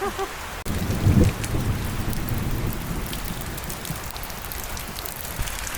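Heavy rain pours steadily, water streaming off coconut trees in a dense, loud, continuous wash after a short quieter opening, with no voices.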